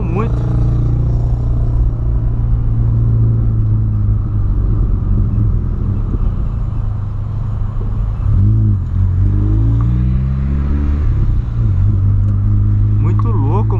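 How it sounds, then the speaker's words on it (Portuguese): A lowered Volkswagen Polo drives along with a steady, loud low engine rumble and road drone that holds throughout, with brief revving swells partway through and someone talking over it. "Muito louco andar com carro baixo, rapaziada."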